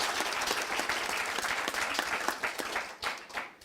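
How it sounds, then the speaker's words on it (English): An audience at an archaeology society plenary session breaks into sustained clapping, many hands together, dense at first and thinning toward the end. "Of course, you can clap."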